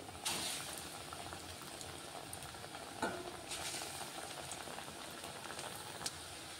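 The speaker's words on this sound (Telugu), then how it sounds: "చూడండి, ఇప్పుడు మళ్ళీ వేసుకుంటున్నాను. ఇలా అన్నీ ఫ్రై చేసేసుకోవాలి." Potato bajji fritters fry in hot oil, giving a continuous bubbling sizzle. A few brief louder splashes or stirs break in near the start, middle and end.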